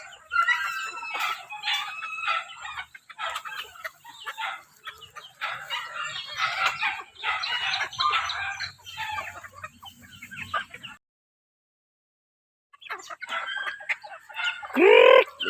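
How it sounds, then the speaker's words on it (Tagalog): A flock of chickens clucks and chatters in scattered bursts, with a brief silent gap. A rooster's crow rises loudly close by at the very end. "ang daming manok oh"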